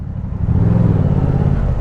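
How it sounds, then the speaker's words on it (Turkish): A Yamaha R7 motorcycle fitted with a new aftermarket exhaust revs close by, a deep, throaty rumble that swells briefly and then holds at a steady, loud idle-like growl. "bu egzoz daha tatlı gibi sanki ya dayı"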